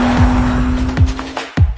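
A new BMW M3 drives at the Nürburgring, a loud, close engine holding a steady tone with quick revving shifts and brief tire noise, with no speech.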